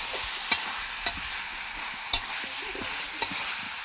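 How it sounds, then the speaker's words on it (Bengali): Chicken and potato pieces fry in a pan for a Bengali-style chicken curry, with a steady sizzle under intermittent metallic clinks and scrapes as a spoon stirs and tosses them. "এই যে ভালোভাবে কষে নিচ্ছি, সব একসাথে মিক্স করে পুরো ভালোভাবে নাড়িয়ে চাড়িয়ে"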